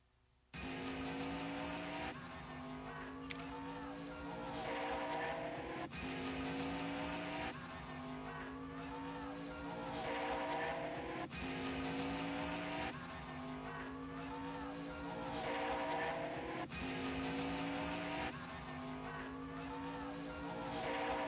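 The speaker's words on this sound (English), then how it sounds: "Jeff Gordon at car number 24 has just passed the pace car" Race cars on a racetrack heard in a steady, continuous engine roar with repeated surges and fades as cars pass, with no talk.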